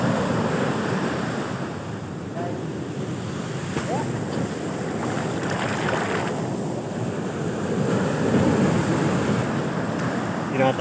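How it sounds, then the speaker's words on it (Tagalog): Rough sea surf pounding the shore at Baler, Casiguran, Aurora, a continuous loud wash of breaking waves with steady wind noise buffeting the microphone throughout. "Galit na galit yung mga dagat dito."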